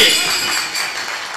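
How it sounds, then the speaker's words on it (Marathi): A crowd claps together at a Marathi kirtan in Mangrul, a dense, steady wash of hand claps that stays loud throughout and fades slightly toward the end. "फक्त टाळी."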